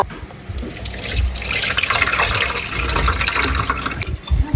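Water gushes loudly and steadily into a container to soak wakame seaweed before frying, a close, continuous splashing pour with no talking.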